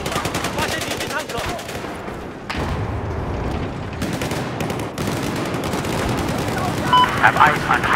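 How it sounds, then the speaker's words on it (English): Rapid machine-gun bursts and gunfire crackle through a Battlefield 4 multiplayer firefight, loud and continuous over the full stretch with booming thuds and brief lulls, while voice chat talks over the shooting. "Have eyes on hostile machine gun"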